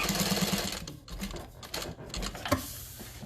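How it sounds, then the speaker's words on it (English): Sewing machine running in short bursts while backstitching to secure the corner of a tote bag, the rapid needle chatter stopping and restarting, close and clear with no talk. "we're gonna start and backstitch a few times just to secure that corner"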